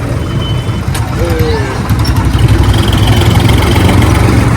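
Decorated tractors idle at Anandpur Sahib, a loud, steady, rumbling engine drone close by, with faint beeps and voices of a crowd mixed in.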